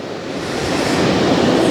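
Sea waves wash steadily against the Cornwall coast, a broad continuous surf roar with some wind buffeting the microphone, growing slightly louder throughout.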